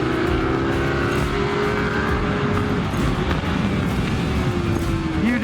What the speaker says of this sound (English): You just got passed by someone on a stock bike with the mirrors.